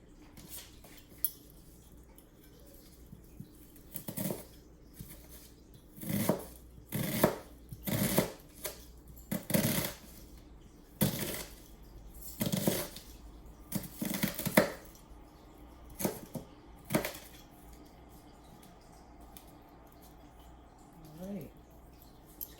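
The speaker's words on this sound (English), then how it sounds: "we're gonna chop these onions up" A knife chops steadily on a board in bursts of sharp, close knocks, with short pauses between runs; no talking.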